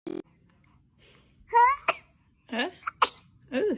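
A baby gives a short sharp sneeze, followed by soft cooing, babbling and small breathy vocal sounds, close and clear in a quiet room.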